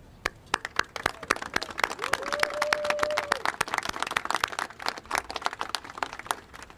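Survivors at a press conference on statute of limitations reform are met with applause: scattered, sharp individual claps in an uneven rhythm, with a brief tonal hum partway through.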